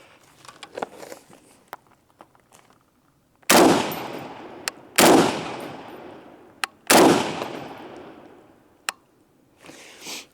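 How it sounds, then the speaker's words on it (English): SOCOM 16 rifle firing .308 rounds outdoors: three loud, sharp shots spaced about a second and a half apart, each with a long echoing decay, preceded and followed by faint handling clicks and small knocks. "So I'm going to start out by shooting the 308 rounds."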